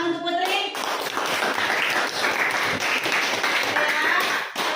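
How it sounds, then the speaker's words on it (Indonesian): A classroom of students claps for a classmate, a brisk burst of many hands that starts just after a short spoken phrase and continues steadily and fairly loud for several seconds. "Tepuk tangan untuk Putri."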